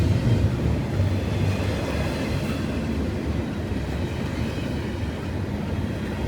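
A Norfolk Southern freight train led by SD70ACU and SD70ACC diesel locomotives rolls past slowly at restricted speed, a loud, close, continuous rumble of wheels and wagons with faint clacking and no voices.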